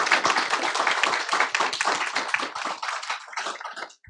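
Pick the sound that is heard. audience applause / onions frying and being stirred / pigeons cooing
audience applause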